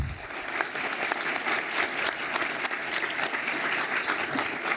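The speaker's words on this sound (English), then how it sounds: "I want to give one more round of applause to this student." A round of sustained audience applause at a law school alumni awards ceremony, honouring a law student, with steady, full clapping from a crowd filling the room and a faint murmur of voices beneath.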